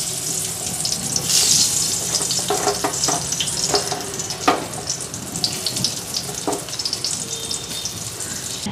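Rolled roti fry in a pan with a soft, continuous sizzle, punctuated by scattered taps and scraping clinks of utensils against the pan. Nobody speaks.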